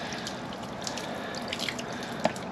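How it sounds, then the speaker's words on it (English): A garden hose sprays water onto a dirt bike to rinse off spilled coolant, a soft, steady hiss and splatter with light dripping throughout. "We're gonna hose her down. So I'm just gonna get my hose here. Just gonna hose it down."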